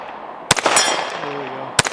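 Two sharp reports from a PSA Micro Dagger C-1 pistol fired at a steel plate 45 yards out, each crack followed by a ringing tail, the pair spaced a little over a second apart.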